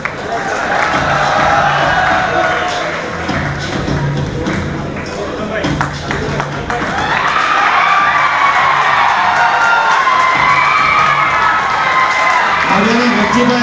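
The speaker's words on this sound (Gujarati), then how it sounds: "તાળીઓથી આપણા રોજી બાપાનું અભિવાદન કરીએ." Loud crowd cheering and clapping at an award ceremony, a dense sustained roar of many voices with scattered thumps, lasting throughout with a brief louder swell midway.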